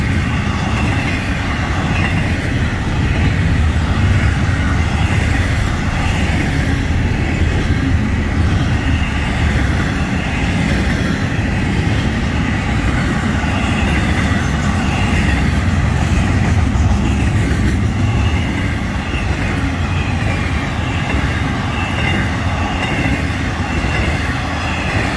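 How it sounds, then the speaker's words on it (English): A Florida East Coast Railway train rolls past, a loud, steady roar of wheels and wagons that holds for the whole stretch without letting up. "This is the second train today."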